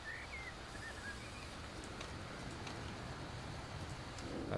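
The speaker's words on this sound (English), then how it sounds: "That's rain." Rain falling in a racing video game, a steady broadband hiss of downpour that stays even and moderately loud throughout, swelling slightly at the end, with no voices.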